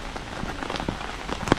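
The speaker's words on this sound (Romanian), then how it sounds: "Și azi plouă." Steady rain pattering on a hard surface nearby in Germany, near Neuschwanstein Castle, a continuous hiss with scattered louder drops and splashes, no wind.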